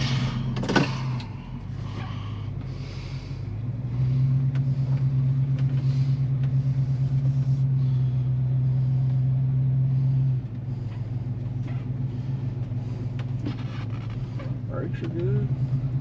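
Car engine on a test drive after transmission pan gasket work, with a 268 cam fitted: a low steady drone that rises into a louder sustained hum midway, then settles back, with people talking over it.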